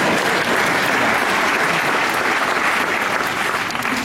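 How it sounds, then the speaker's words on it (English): Audience applause fills the room, a dense, steady clatter of many hands clapping throughout, close and loud, tapering only slightly at the end. "Let's have a round of applause for that."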